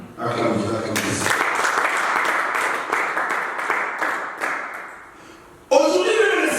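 A congregation claps and applauds during a French-language church sermon, with a burst of dense clapping that swells and fades, followed by a loud voice.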